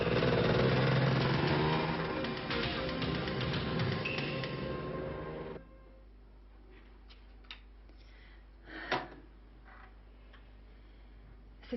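A motorcycle's engine roars loud and close for about five seconds, then cuts off abruptly, leaving a quiet background with a few faint ticks and one brief soft rumble.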